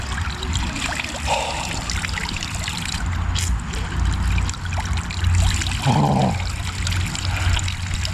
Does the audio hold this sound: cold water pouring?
yes